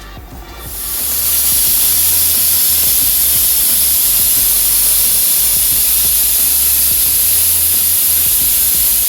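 A pressure cooker boiling chickpeas for chole on a gas stove lets out a loud, steady jet of hissing steam that starts abruptly after a brief quiet moment and continues unbroken to the end.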